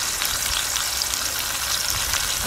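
Dried fish frying in a pan outdoors in the forest, a dense, steady crackling sizzle heard up close with no voices.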